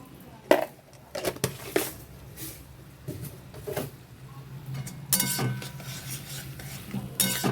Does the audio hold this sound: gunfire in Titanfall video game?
no